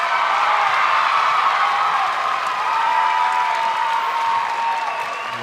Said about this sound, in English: Well-deserved applause from the home fans for Charlie Spivey.